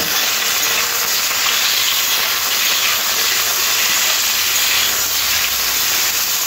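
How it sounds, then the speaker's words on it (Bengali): Chicken pieces frying lightly in a little white oil in a kadai, a dense, loud, unbroken hissing sizzle that holds steady for the whole stretch, no voices. "এই তেলের মধ্যে এবার চিকেনগুলো দিয়ে দেব। হালকা ভেজে নেব।"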